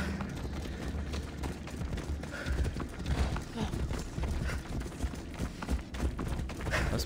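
Horse hooves clip-clop steadily in Assassin's Creed Odyssey, a continuous galloping rhythm of dull thuds at moderate distance, with a voice talking over it.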